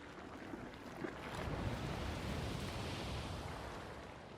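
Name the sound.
geyser water in video game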